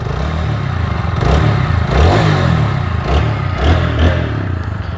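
A second-hand motorcycle engine runs close up, idling with a rough, throbbing rumble and then swelling in several revs that rise and fall over a few seconds.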